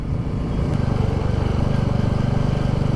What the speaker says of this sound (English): Just listen to the beautiful thrum of this here engine